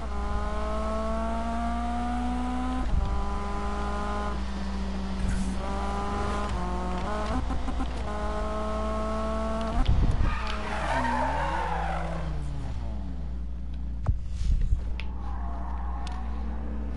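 A car in a racing video game hums along at a steady engine pitch, with repeated gear changes and long tire squeals through skids, one sweeping upward whine in the middle, and a voice speaking faintly underneath.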